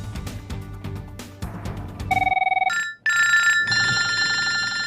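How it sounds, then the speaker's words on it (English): A telephone rings with a loud electronic trilling tone, first an old-style ring then bright warbling ringtone bursts, close and continuous with no talk. "Phone rings and you're like, oh man, who is it?"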